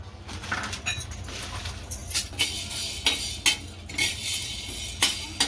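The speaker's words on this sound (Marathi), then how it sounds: "आता आपण जिरेही काढून त्यातच आपण लवंग आणि मिरी पण भाजून घेऊ" Whole cumin, cloves and black pepper dry roasting in a pan for mango pickle masala, with a steady run of light clinks and scrapes of a spoon against the metal pan, some sharp and close, no talking.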